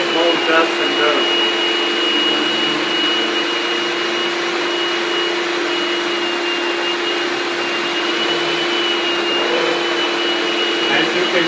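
A shop vac fitted with a powered head runs steadily as it vacuums, a loud continuous motor whine holding nearly unchanged from start to finish, with a talking voice faintly under it.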